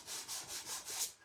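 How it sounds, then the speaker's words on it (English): Wood of a farmhouse caddy is sanded by hand in about five quick back-and-forth rubbing strokes, a close, soft, airy scratching with an even rhythm and no voices. "I'm just sanding this a little bit"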